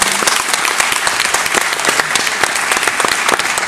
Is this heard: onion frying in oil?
no